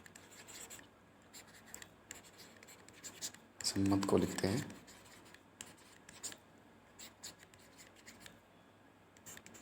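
Soft, scratchy strokes of a rule being written on a board during a maths lesson on sets, relations and functions, quiet and intermittent, with a brief burst of a voice speaking partway through.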